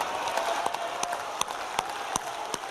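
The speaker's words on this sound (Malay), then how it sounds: "Tepukan yang lebih bergemuruh untuk Presiden parti kita." A party assembly crowd applauds its president, a dense bed of clapping punctuated by several sharp, loud individual claps that stand out close by.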